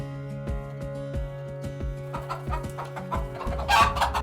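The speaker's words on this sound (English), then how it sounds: "Chicken." A chicken clucks in a quick series of short, close clucks over gentle background music, building to a busier, louder flurry near the end.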